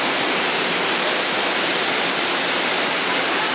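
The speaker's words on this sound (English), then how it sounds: "The water cascades down into the pool." Peguche Falls in Ecuador pours into its pool, a loud, steady roar of cascading water filling the whole scene without pause or voices.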